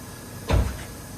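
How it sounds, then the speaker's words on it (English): A car door shuts once during a look over a free car, a short solid thud standing out briefly against quiet background noise. "close that door real quick."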